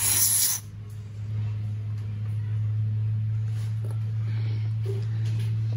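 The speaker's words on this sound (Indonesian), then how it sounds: "main jetnya semprotin" A short hissing burst of cleaner sprayed onto the main jet of a Yamaha F1ZR motorcycle carburetor opens the clip, then gives way to a steady low hum.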